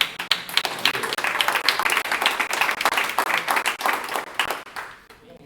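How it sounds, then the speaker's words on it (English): An audience at a Pitch-In event applauds presenters as they walk to the stage, a lively, uneven burst of close clapping that stays strong for several seconds and fades out at the end. "let's hear a round of applause for you"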